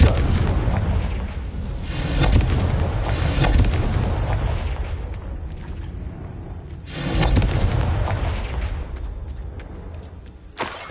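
A Confringo fire-blast spell detonating in the Hogwarts Legacy game, heavy booming blasts rolling one into another with a deep rumble, swelling again partway through and fading toward the end.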